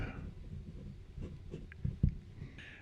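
A steel-nib Parker 88 fountain pen from 1991, writing very wet on paper, gives faint, soft scratching strokes with a few brief louder scrapes near the end, close and quiet.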